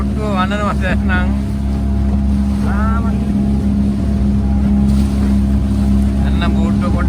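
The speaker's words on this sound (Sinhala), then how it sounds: "පොඩ්ඩක් වතුර සැරයි බෝට්ටුව වන්නනවා දැන්" A motorboat engine drones loudly and steadily on choppy water near an island off Negombo, Sri Lanka, while people talk over the hum.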